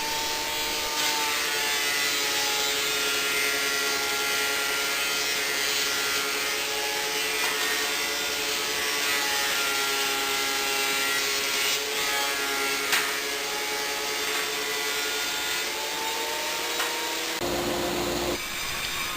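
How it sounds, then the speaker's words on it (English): A thickness planer smooths wooden boards in a workshop with a loud, steady whining roar that holds nearly unbroken for about seventeen seconds before cutting off abruptly. "I run them all through the thickness planer just to make sure they're all smooth and of consistent thickness."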